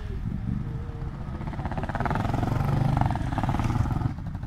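A Suzuki 800DE adventure motorcycle lapping a trail track, its mid-pitched engine droning steadily and swelling slightly as it passes, with clattering mechanical noise and no talk.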